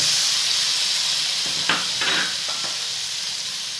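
A loud, steady hiss and sizzle of chicken stock bubbling in a hot pan, with a few soft stirring scrapes partway through.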